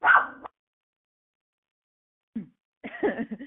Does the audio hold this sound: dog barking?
yes